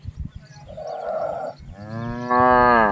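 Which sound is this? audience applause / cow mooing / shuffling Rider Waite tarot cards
cow mooing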